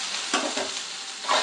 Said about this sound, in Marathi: फोडणी टाकलेली आहे.